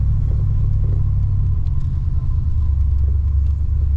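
A 1964 Oldsmobile 98 driving along the road, its engine a steady, loud low rumble with continuous road and drivetrain noise from inside the car, no talking.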